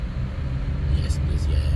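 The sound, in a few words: car engine accelerating during a manual-transmission driving lesson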